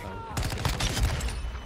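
Rapid bursts of Honeybadger rifle gunfire in a video game crack in quick succession, loud and close, with a voice talking over the shots.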